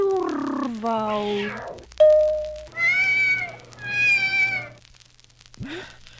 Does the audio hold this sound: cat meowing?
yes